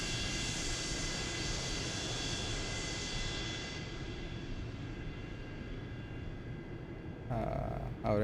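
A 727-200F airliner coming in to land in Microsoft Flight Simulator roars loud and continuous with steady engine tones, the whine slowly fading before a brief voice breaks in near the end.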